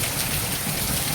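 Heavy rain falls steadily in a village, a dense constant hiss that fills the whole moment with no other sounds.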